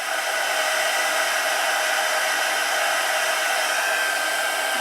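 A loud, steady whoosh of a heat tool blowing continuously to melt embossing powder, unbroken and close by, with no other sounds.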